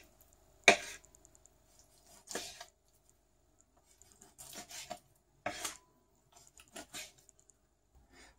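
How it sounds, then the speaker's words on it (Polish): A knife slices through a washed, dried chicken fillet on a board, cutting it at an angle into small cutlets. Several distinct chopping strikes and short cutting bursts come at irregular intervals, separated by quiet gaps. "W pierwszej kolejności zajmiemy się filetem, którego wymyjemy, osuszymy i pokroimy w kotleciki."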